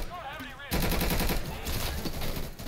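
Gunfire in Insurgency breaks out from several directions at once. Overlapping rapid shots and automatic bursts follow a short opening of quieter ambience, then stay loud and continuous.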